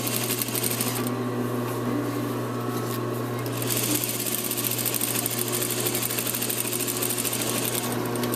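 A sewing machine stitches a shirt front facing and hem toward the collar, running in a steady close mechanical whir with a brief change in pace near the start.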